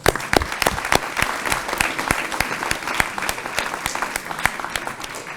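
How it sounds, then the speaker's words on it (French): An audience applauds the youth mayor at a town hall New Year's greetings event in Reuilly: steady, dense clapping from a medium-sized crowd, close and lively, with a few louder individual claps standing out. "on l'applaudit"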